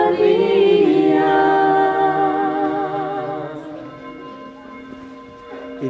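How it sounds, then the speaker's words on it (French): Church bells ring out loud and resonant at the end of a rosary prayer, their overlapping tones sustained and slowly fading over several seconds. "Les cloches sonnent pile à la fin du chapelet."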